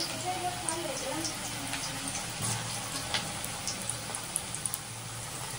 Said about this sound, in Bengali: তেলটা গরম হয়ে গেছে, এবারে আমরা আলুগুলোকে ভেজে নেব এক এক করে।